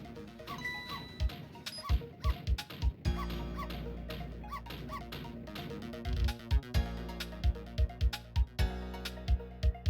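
A dog yelps and whimpers in short repeated cries over game music and sound effects from Ghost Trick: Phantom Detective, with bursts clustering near the start and end of the stretch.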